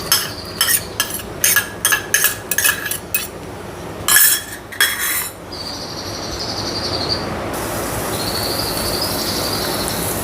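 Onions hit hot oil with cinnamon and cloves in a pan: first a quick series of close metallic utensil clinks, then a steady, even frying hiss that keeps going to the end, with no talking.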